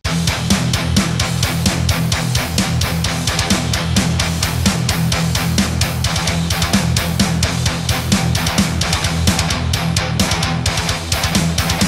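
A loud, dense band groove: driving distorted guitar riff with steady, busy drums in 13/8 time, the accents falling in an uneven, shifting meter throughout.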